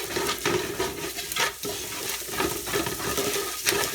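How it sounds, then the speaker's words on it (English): Sugar is stirred into baked beans in a hot pot, with wet scraping and sloshing strokes that repeat in an uneven rhythm over a soft bubbling sizzle, close by. "Give that a nice stir."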